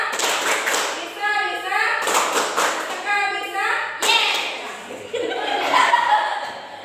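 A group performs the Tepuk SMK rhythmic clapping chant in a school classroom, with bursts of patterned claps and chanted voices in three repeated phrases, mixed with some laughter.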